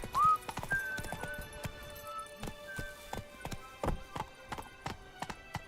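Roach, a horse in The Witcher 3 video game, gallops with steady, rhythmic hoof clops at close range over faint, sustained background tones.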